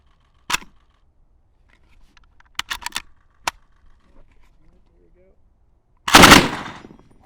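Rifle fitted with an OSS Rad 22 suppressor firing at a range, sharp muffled cracks: one shot, a quick cluster of three, another single, then a louder, longer burst near the end, with quiet gaps between.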